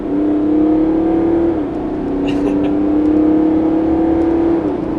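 A twin-turbo six-cylinder car engine accelerates loudly up close during a speed test, its tone rising steadily, dipping briefly as a gear shifts, then climbing again.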